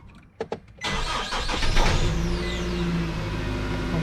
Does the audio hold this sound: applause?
no